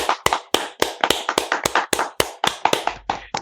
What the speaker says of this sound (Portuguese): Queria inclusive puxar uma salva de palmas aqui para todos nós que fizemos essa cobertura aqui.